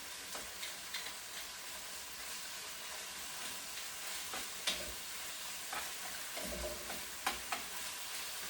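Beef stir-frying in a pan for a cabbage and beef stir fry makes a soft, continuous sizzle, with a few louder spatters and light stirring clicks, fairly quiet and without speech.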